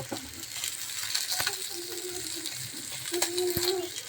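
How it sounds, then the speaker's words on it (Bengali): Beaten egg fries in hot oil, a steady close sizzle with light stirring scrapes and a couple of utensil clinks, with a voice briefly audible in the background. "তেলটা গরম হয়ে গিয়েছে আমি এখন ডিম দিয়ে দিচ্ছি"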